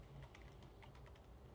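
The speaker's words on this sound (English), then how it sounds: "I'm typing with one hand." Quiet, rapid keyboard typing, a run of soft clicking keystrokes in an irregular rhythm over a low background hum.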